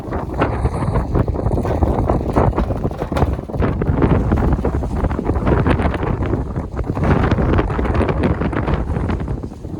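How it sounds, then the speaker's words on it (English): Strong outdoor wind in western New York, gusting near 40 miles an hour in below-zero cold, buffets the microphone with loud, continuous broadband roaring and rumbling that swells and dips throughout. "The weather in western New York's been crazy, 40-mile-an-hour winds"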